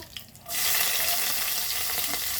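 Bay leaves and green chillies hitting hot oil in a pan, setting off a sudden loud, close sizzle that bursts in and then holds as a steady crackling hiss.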